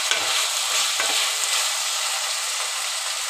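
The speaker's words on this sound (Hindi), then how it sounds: "बैंगन डालने के बाद हम अच्छे से इसको कढ़ाई के इधर उधर करेंगे कि एक साथ मिक्स हो जाए।" Potato and brinjal curry being stirred in a kadhai, with a spoon scraping and mixing the vegetables at a few quick strokes over a steady, close frying sizzle.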